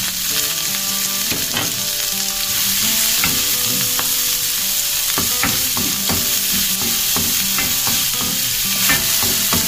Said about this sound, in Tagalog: Igisa na natin yung ating sibuyas tsaka bawang.